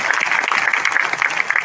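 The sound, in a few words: church congregation applauding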